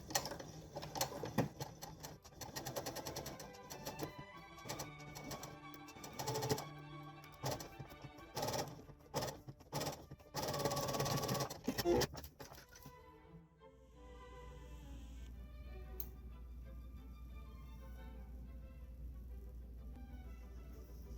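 A sewing machine stitches the front of a doll blouse's button placket in quick, rhythmic bursts of mechanical clatter with brief pauses, then stops, leaving a quiet low hum.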